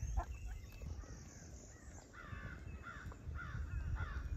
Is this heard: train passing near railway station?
no